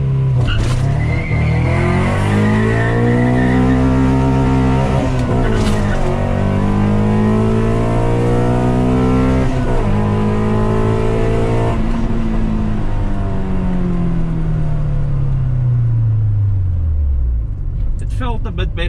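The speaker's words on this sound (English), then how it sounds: "I think I need to rev the car up higher" A Honda Civic with a B20 VTEC engine revs hard and loud at a drag race, climbing through the gears with a roaring, rising pitch, then winding down as the car slows.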